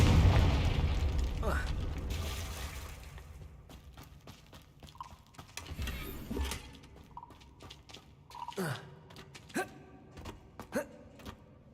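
A Confringo fire-blast spell in the Hogwarts Legacy video game bursts with a deep boom at the start, followed by scattered magical pops, whooshes and thuds from the game as the rumble fades.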